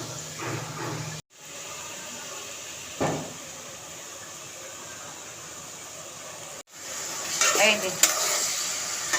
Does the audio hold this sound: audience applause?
no